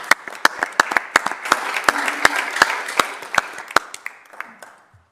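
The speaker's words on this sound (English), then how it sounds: "And you asked for another round of applause." Audience at a city council meeting giving a short round of applause, with sharp individual claps at close range over a softer wash of clapping that thins out and stops after about five seconds.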